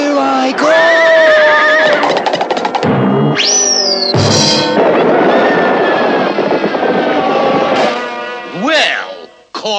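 A cartoon horse neighs and whinnies loudly, with shrill rising and falling cries over a dense, constant roar of music and effects that fills the whole stretch, no speech.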